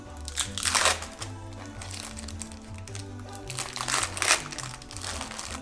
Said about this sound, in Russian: Остается только открыть сыр в пластинках.